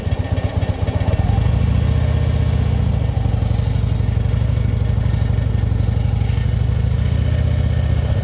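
A large motorcycle engine runs loud and close as the rider makes a slow, sharp U-turn in a parking lot, a steady low throbbing idle with slight throttle swells, with no voice over it.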